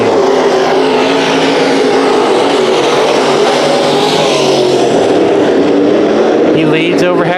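Race cars in a heat race at Bakersfield Speedway, a continuous loud roar of engines from the track, with commentary talking over it throughout.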